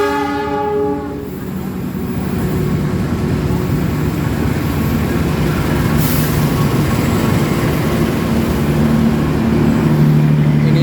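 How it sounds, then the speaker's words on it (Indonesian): KA Lodaya passenger train arriving at Yogyakarta station, opening with a loud horn blast, then a steady rumbling roll of the locomotive and carriages growing slightly louder as it comes in, with a faint squeal of wheels. "Yuk kita nunggu KA Lodaya, sebentar lagi akan tiba di stasiun Yogyakarta"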